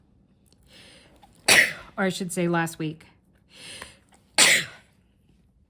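A person speaks briefly, with sharp, loud sneezes bursting out before and after the talk, close to the microphone.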